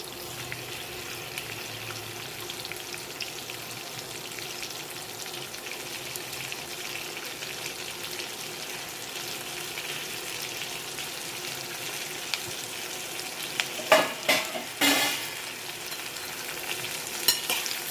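Ridge gourd peel fries with roasted peanuts and chillies in a pan, giving a soft continuous sizzle, then a few sharp scraping clatters of stirring toward the end.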